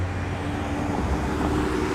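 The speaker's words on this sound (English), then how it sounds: "Let this car go by." A car passes on a city street in Toronto's east end in winter, a steady low traffic rumble that swells slightly as it goes by, with no talk.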